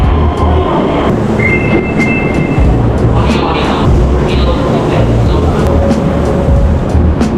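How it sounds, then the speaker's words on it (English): Loud, continuous rumble of an Osaka subway train, with rattling and faint squeals, as it rolls into a station at close range. "Our train just arrived."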